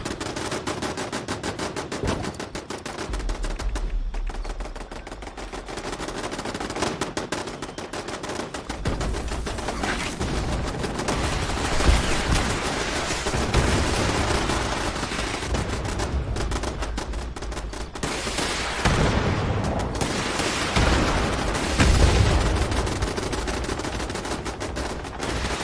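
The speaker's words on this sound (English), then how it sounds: "for a shotgun, this does have ridiculous range" Repeated shotgun blasts in Fallout 76, loud and close, fired in rapid bursts with booming low ends over a dense, continuous background of game combat noise.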